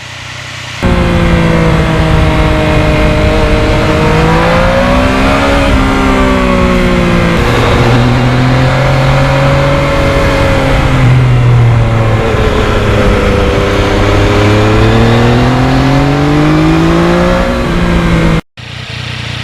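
A loud 2020 Yamaha MT-09 motorcycle engine droning steadily while riding, pitch rising and falling with throttle changes, continuous and close, with a brief cut near the end.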